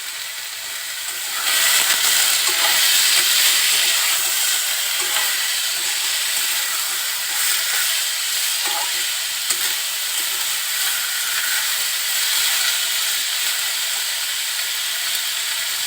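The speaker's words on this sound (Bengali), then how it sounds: "একটু তেলের সাথে হলুদটা নাড়া দিয়েই আলুগুলো দিয়ে দিলাম" Potatoes fry in oil with turmeric, giving a strong, continuous sizzling hiss with occasional stirring scrapes, steady and close throughout.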